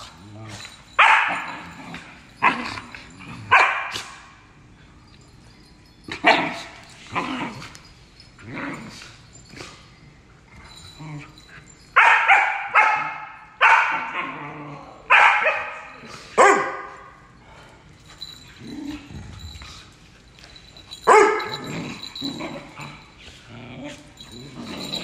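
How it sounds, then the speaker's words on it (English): A standard poodle outdoors in Sun Valley, Idaho barks close by in repeated bursts of sharp, loud barks, with short pauses between the bursts and a few whimpering yips mixed in. "She just wants to bark about it."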